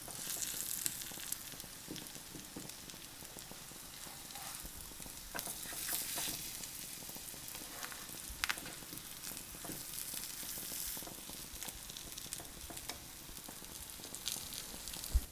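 Dukkah spice-crusted seer fish with chickpea flour frying in a pan, a continuous crackling sizzle with irregular pops and a few soft shifts as pieces are flipped, quiet and steady with no talking.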